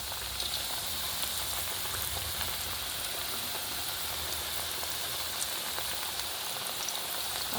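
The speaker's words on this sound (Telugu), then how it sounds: "మనం అప్పడాలు వేయించుకుంటాం కదా అలానే ఒక్కటి ఒక్కటి తీసేసుకొని నిదానంగా వేసేసుకుందాము" Potato and rice pappadams frying in hot oil over low heat, a steady soft crackling sizzle with fine bubbling pops, continuous and fairly quiet.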